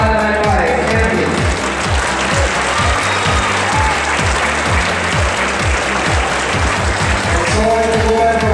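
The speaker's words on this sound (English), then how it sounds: "Let's have a round of applause for our" The audience at the 2013 Rubik's Cube World Championship finals applauds the 5x5x5 champion, with loud, dense, sustained clapping from a large crowd that runs unbroken from start to finish.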